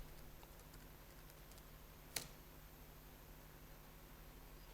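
Typing on a computer keyboard while searching in a design program: faint, sparse key taps over steady background hiss, with one sharper, louder keystroke standing out midway.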